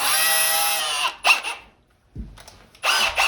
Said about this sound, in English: you get a little pilot hole going